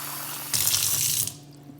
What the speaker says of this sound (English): I'm going to put the water in first. So it's cold water, and then you fill it up.